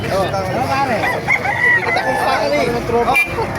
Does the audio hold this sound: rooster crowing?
yes